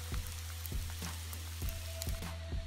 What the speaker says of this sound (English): It's hailing on my crew.